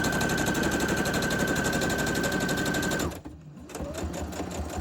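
A sewing machine stitches a craft folio in cream thread with a fast, even mechanical rattle that runs for about three seconds, stops abruptly, then starts again more softly, close to the microphone with no talking.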